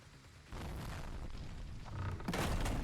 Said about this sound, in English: There's a loud explosion in the entrance which Destroyer blew up once again, explodes in a shower of debris.